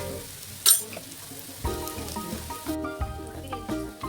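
Turmeric, red chili powder, coriander powder and garam masala sauté in hot oil for a home-style mutton biryani. A close, steady sizzle and crackle is punctuated by a few clinks of a spoon against the pan.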